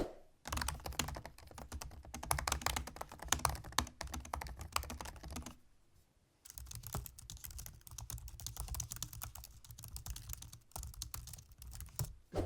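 Rapid clicking of keys on a 2016 13-inch MacBook Pro laptop, loud, close and continuous, with a brief pause midway before the typing resumes at the same brisk pace.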